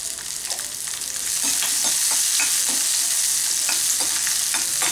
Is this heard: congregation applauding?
no